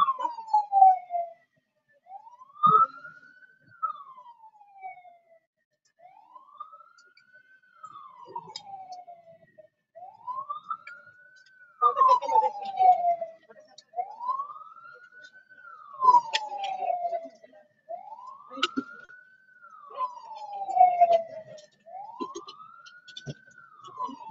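Ambulance siren wailing during a workplace rescue drill for work at height, a steady rising-and-falling wail repeating about every four seconds, loud and sustained, with faint background clatter and voices.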